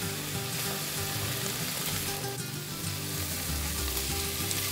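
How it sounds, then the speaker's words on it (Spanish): Onion and poblano pepper strips fry over medium heat in a pan, giving a dense, even sizzle with light shifting and stirring sounds throughout and no speech. "a lumbre media las freímos moviendo de vez en cuando"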